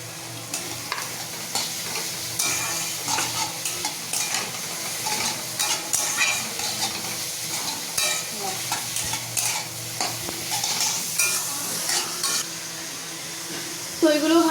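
Cabbage and capsicum stir-frying in a pan with onion for chicken chowmein, a continuous close sizzle broken by frequent clanks and scrapes of a spatula stirring, lively and uneven in rhythm.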